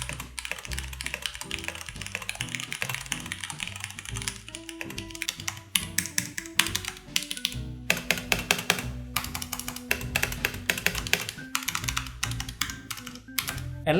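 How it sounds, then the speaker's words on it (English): Typing on a Leopold FC660M PD keyboard with Cherry Brown switches and silent dampening gives a fast, irregular stream of soft, muted key taps, close and steady with no voices. "So brown switch, if you type, then it will sound like this."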